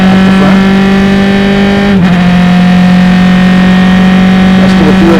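SCCA race cars at Mid-Ohio accelerate through the keyhole turn, their engines forming a loud, sustained steady drone with a brief dip partway before the roar resumes.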